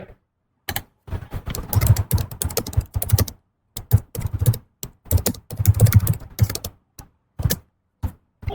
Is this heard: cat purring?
no